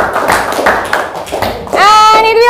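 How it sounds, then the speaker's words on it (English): A high school English class applauds a student group with scattered, close hand claps. Near the end the clapping gives way to a voice or tone that sweeps upward. "so give applause for group 4"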